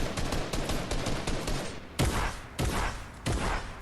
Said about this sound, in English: I get a couple of shots on him